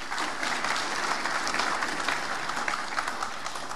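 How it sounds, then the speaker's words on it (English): An audience at a formal ceremony claps in steady, dense applause after a speech by an Acting Vice-Chancellor, a continuous wash of many hands at even loudness throughout with no voices on top. "Ladies and gentlemen, please another round of applause."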